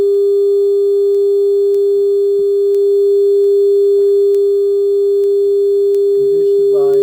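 A loud, steady sine-wave test tone plays through speakers during an amplifier bench test, holding one pitch throughout, with a few faint ticks and a short burst of other sound near the end.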